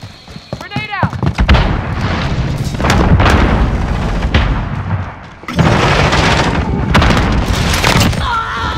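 A grenade explosion in the Modern Warfare video game, heavy booming blasts and rumble amid ongoing gunfire and battle noise, loud and close, with game voice callouts over the top.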